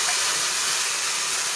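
Loud steady sizzle as crabs hit a hot pan of frying onion and green chili, a broad unbroken hiss throughout the short moment with no voices.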